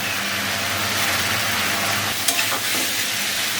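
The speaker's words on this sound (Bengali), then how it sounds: "এটাকে এখন টান টান করে ভেজে নেব।" Taki fish fry in a pan with a loud, steady sizzle, broken by a brief scraping stir near the end.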